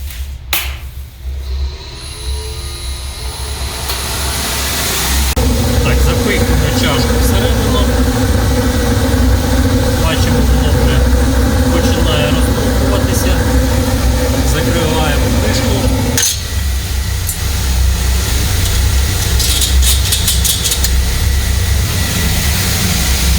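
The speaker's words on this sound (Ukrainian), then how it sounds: "Включаємо котел." A waste-oil heating boiler fires up and settles into a loud, steady low roar and hum that runs on continuously, with someone speaking over it at the start.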